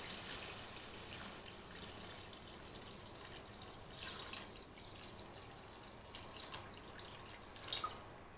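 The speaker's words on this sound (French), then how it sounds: "Donc je viens rajouter de l'eau." Water is poured into a cooking pot of seared meat and onions for a broad bean tajine, a faint, steady trickle and dripping that carries on quietly throughout.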